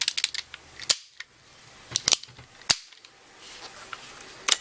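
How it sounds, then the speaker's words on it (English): A KJWorks KP-06 Sig Sauer P226 CO2 airsoft pistol is handled and dry-fired, giving a run of sharp snapping clicks and clacks in irregular bursts, close and crisp, with no talking. "And this is a CO2 gun, airsoft again."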